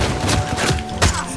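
A grenade blast and gunfire in the Uncharted 4 multiplayer game form a dense, continuous barrage of booms and rapid shots, with a heavier thump about two-thirds of the way through.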